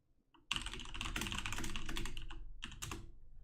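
Fingers type rapidly on a computer keyboard up close, a dense run of clicking keystrokes after a short quiet start, with a brief pause before a few final taps.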